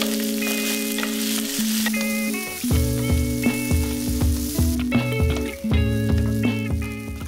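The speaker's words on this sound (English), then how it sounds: "We'll fry the sausages a bit first, just for a minute or two." Sausages frying in olive oil in a pan over medium heat, a steady close sizzle with crackles and a few tonal clanks, no talking.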